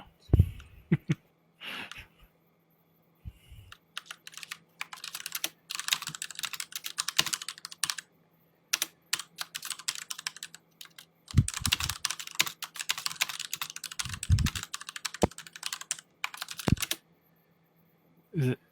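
Rapid computer keyboard typing during a bugfixing livestream, close and crisp in bursts of clattering keystrokes separated by short pauses, with faint voices in the background.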